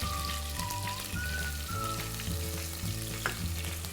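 Green and red chillies, curry leaves and coconut sauté in a pan for rice upma, crackling and sizzling steadily up close, with a low hum underneath and occasional sharper pops.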